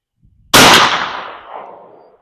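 A single loud, close shot from an H&R 32 gauge rifled shotgun firing a 207 grain .429 hollow point sabot slug, a sharp blast followed by a rolling echo that fades over about a second and a half.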